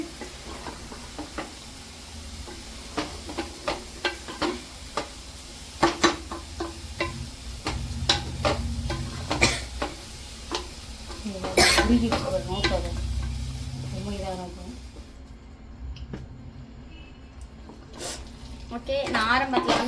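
Half a kilo of chicken goes into a hot pan and crackles loudly, with a spoon scraping and clinking against the metal as it is stirred. A voice speaks intermittently over the frying, and the sizzle swells toward the end.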